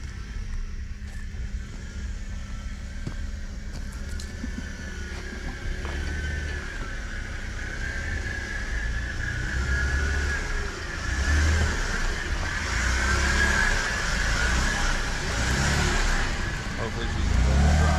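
Stock rental Jeep driving a long-closed dirt road in Citrus WMA, its engine a steady mid-pitched drone that swells and revs toward the end, with rumbling low tire noise throughout.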